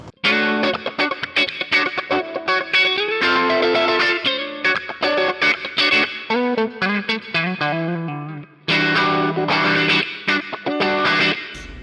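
Distorted electric guitar lead with a sweeping wah-wah tone from a GTRS smart guitar, playing fast melodic runs with echoey effects throughout.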